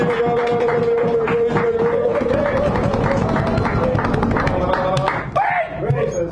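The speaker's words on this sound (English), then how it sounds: "Give Beej a nice round of applause" Applause and cheering from a small audience at a San Francisco cafe poetry hour, clapping and crowd noise close by with voices mixed in and a tonal hum underneath, tapering off toward the end.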